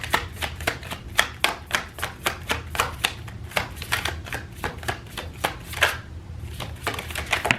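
Tarot cards riffled and shuffled in quick, crisp bursts of papery flicks, close up and steady, with no talking.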